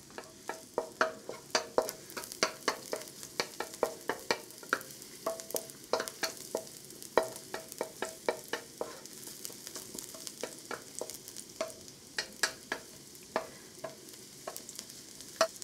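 Garlic sizzling in oil in a non-stick skillet, a steady close crackle with repeated sharp pops and stirring scrapes, heard alone without talk.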